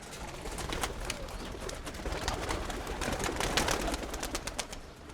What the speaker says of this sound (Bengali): খুব শখের মানুষ কবুতর পালে মনে হয়